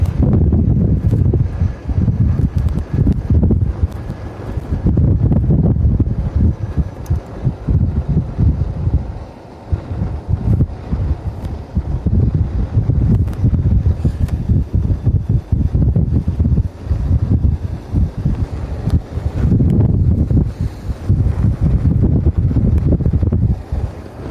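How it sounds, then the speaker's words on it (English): Strong headwind buffets the microphone on the summit of a men's elite road cycling race in Johannesburg, a steady low roaring rumble that persists throughout with brief dips, no voices. "Now there's a definite headwind these riders are dealing with here on the summit."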